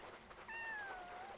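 A single faint cat meow in Yonder: The Cloud Catcher Chronicles, a drawn-out, gently falling cry over quiet ambient background with a soft trickling texture, and no one speaking.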